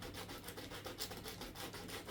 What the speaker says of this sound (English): I'm going to take some sandpaper there